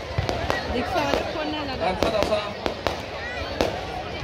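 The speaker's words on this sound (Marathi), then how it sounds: "फटाके आतिषबाजी चालू होती बघा रात्री 12 वाजता." At a midnight New Year celebration in Devgad, fireworks and firecrackers pop and bang in sharp, irregular bursts over a constant wash of crowd noise, while someone talks nearby.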